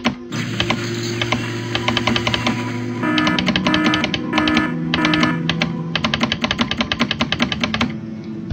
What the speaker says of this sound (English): Man, my mouse clicking is so loud